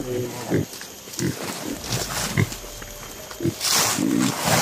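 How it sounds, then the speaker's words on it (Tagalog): Low grunting animal snorts come in short bursts, mixed with voices talking and some game-like background noise. "Yun ang baboy."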